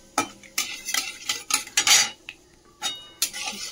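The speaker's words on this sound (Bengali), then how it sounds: "কারি পাতাটা ভেজে নিলাম লাল করে" Dried curry leaves fried in hot oil in a pan, with close metal utensil scrapes and stirring clatters in quick bursts over a faint sizzle.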